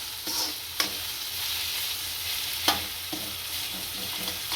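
Onions and capsicum for Manchurian stir-fry in a hot pan, a steady sizzle punctuated by a few sharp spatula clacks against the pan.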